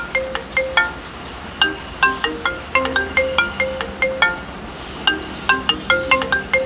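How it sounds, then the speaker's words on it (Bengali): A mobile phone rings with a repeating melodic tone, bright plinking notes in regular loud bursts that carry on alone throughout. "কে আবার ফোন করলো মোবাইলটাতে দেখি কে ফোন করলো"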